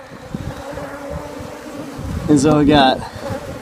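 Bees buzz steadily from a hive built into a 5th wheel trailer in Phoenix after being smoked, a droning hum that swells near the end while someone talks over it.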